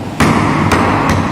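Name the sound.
mallet striking mortise and tenon joint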